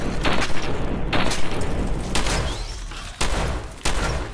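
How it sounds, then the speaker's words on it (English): A grenade bursts amid a rapid fusillade of gunfire in the video game Fallout 4, with several loud booming blasts and sharp shots crowding the short clip. "I'm gonna throw a grenade."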